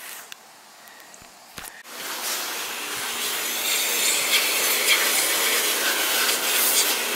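A power washer cleaning a trailer sprays as a steady broadband hiss that builds after a quiet start, heard from a short distance outdoors and continuing without pause, with no talking.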